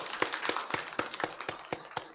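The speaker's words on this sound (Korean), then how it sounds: "우리 박수로 환영하겠습니다." A church congregation gives a short round of applause to welcome a family during a Sunday service, with steady, evenly spaced claps close by and no voices.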